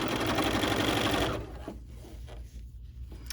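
A sewing machine runs steadily while stitching a blouse seam at the 5/8-inch mark, a dense continuous whir for over a second before it stops and leaves quiet room noise.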